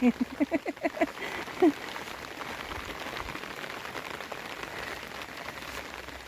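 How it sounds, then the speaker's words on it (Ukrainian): Steady rain hisses across a village street, broadband and continuous, with a few short goose calls near the start. "А зараз дощ іде, нікого немає."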